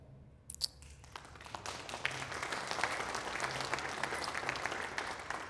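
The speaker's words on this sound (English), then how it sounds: "And so we send our applause" Gentle applause from a congregation at a Sunday service, a soft steady wash of many hands clapping that swells after a few early claps and continues evenly, fairly distant and quiet.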